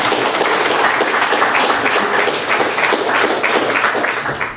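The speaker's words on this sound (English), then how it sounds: "Round of applause for Lorraine and Anna," An audience applauding two poets at a poetry reading at Trinity College, a full and steady wash of clapping from a packed room that carries on throughout.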